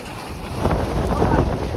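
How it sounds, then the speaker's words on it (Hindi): Strong wind of a dust storm buffets the microphone in a rough, rumbling roar that swells louder partway through and stays gusty. "बहुत ही तेज़ हवाएं चल रही थी"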